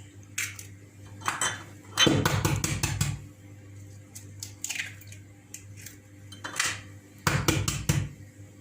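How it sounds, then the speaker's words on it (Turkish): Three eggs are cracked into a bowl while making soda börek, with short clinks and taps of shell on the bowl edge in several separate bursts, close and fairly quiet over a faint low hum. "3 tane içine yumurta kırıyoruz"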